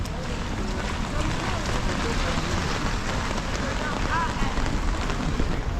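Heavy rain pours steadily, a dense roaring patter that fills the whole clip without letup.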